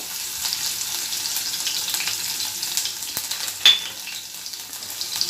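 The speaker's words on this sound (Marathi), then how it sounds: "जिरी छान तळतडली की कढीपत्ता टाकायचा आहे आपल्याला त्याच्यानंतर मी लसूण ठेसून घेतला होता तर लसूण टाकून घ्यायचं आहे आपल्याला" Cumin, curry leaves and crushed garlic frying in a pan for a bitter gourd vegetable dish, giving a steady close sizzle with a single brief clink partway through.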